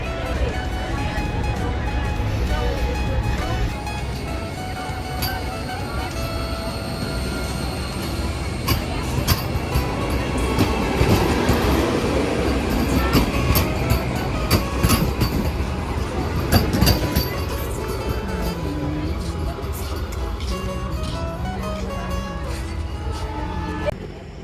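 A metro train runs with a steady loud rumble, wheel clatter and occasional high squeals of wheels on rail, continuous throughout and heard from on board.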